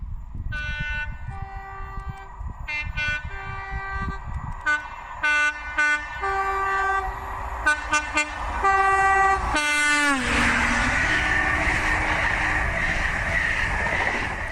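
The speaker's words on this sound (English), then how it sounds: "the proud sound of the two-tone at every opportunity" An HST train on the GWR Flying Banana railtour sounds its two-tone horn in repeated blasts, some short and some held, over the rumble of the moving train. It ends in a long, loud horn note as the train passes close.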